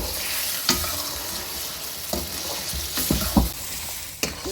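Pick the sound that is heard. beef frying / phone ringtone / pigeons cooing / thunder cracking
beef frying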